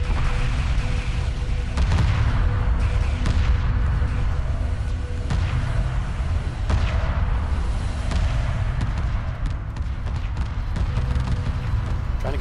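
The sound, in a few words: space battle weapons fire in video game Homeworld Remastered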